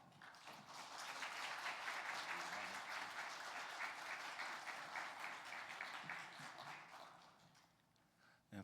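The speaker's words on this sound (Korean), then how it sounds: "우리 선교사님 나오실 때에 큰 박수로 함께 환영하고 축복하겠습니다." A church congregation applauding to welcome a missionary at an afternoon worship service, with sustained, dense clapping that swells, holds steady for several seconds and then fades out near the end.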